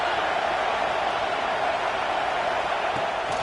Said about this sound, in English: this crowd is getting behind this defense